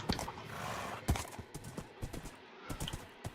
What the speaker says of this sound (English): I'm not sure how much faster this is than a player, my horse.